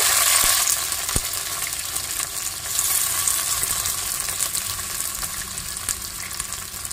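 Onions fry in oil for a chicken curry, giving a dense, loud, continuous sizzle with an occasional sharp tap or clink of a utensil against the pan.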